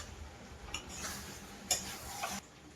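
Chicken kosha being stirred in a pan, with a spoon clinking and scraping against the metal at a close, moderate level and in short irregular strokes.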